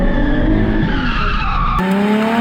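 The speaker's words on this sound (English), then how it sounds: "and can drift like this." Tires skid and squeal continuously as an affordable drift car slides, engine roaring loud and close throughout, with a sudden shift in tone near the end as the car changes gear or direction.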